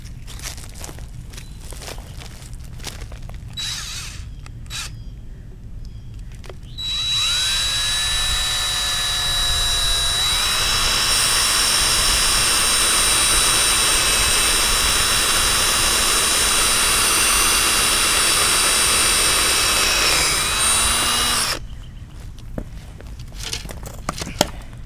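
A drill bores into the plastic case of an OPUS BT-C3400 battery charger, its high motor whine rising and falling in pitch for about fourteen seconds before stopping, close and loud over quiet handling sounds.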